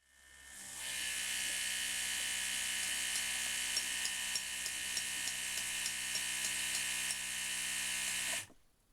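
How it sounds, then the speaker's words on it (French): Laboratory hot plate and cooling circuits switched on for wood pyrolysis equipment, a steady close mechanical hum and whir with faint ticking, starting up after a second and cutting off near the end. "Allumons la plaque chauffante et les circuits de réfrigération de l'appareil."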